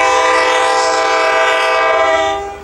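A passenger train led by an F40 locomotive passes at a coastal village station and blasts a loud, sustained chord horn up close, holding steady before fading slightly at the end.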